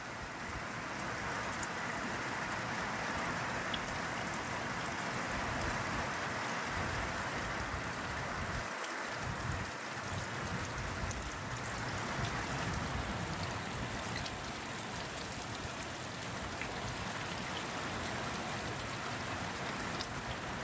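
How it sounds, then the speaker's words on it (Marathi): Heavy rain pours down in a dense, unbroken hiss, spattering steadily on surfaces throughout with no talk over it. "मस्त ढगाळ असं वातावरण आणि खाली धो धो धो धो पाऊस."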